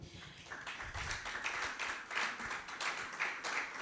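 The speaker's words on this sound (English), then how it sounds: "Please continue to clap." A conference audience at a social media week event in Uyo claps for a speaker being welcomed, a steady patter of many hands at moderate distance with no talking.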